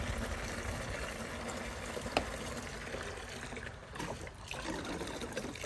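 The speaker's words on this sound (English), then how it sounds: "That's what it pours like without the vent installed." Diesel fuel pours from an unvented gas can into a bucket, giving a steady, continuous trickling and splashing flow throughout with a brief sharper knock partway through.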